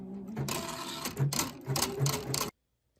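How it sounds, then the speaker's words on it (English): An embroidery machine fitted with a ribbon embroidery attachment stitches out a ribbon design in loud, close, rhythmic rattling bursts, then cuts off abruptly into silence. "I'm going to let the design finish stitching out"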